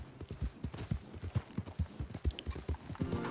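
Horse hooves clop steadily in the video game Red Dead Redemption 2, a brisk, close, rhythmic trot of distinct hoofbeats on hard ground.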